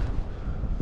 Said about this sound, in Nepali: यहाँ धेरै हावा चल्छ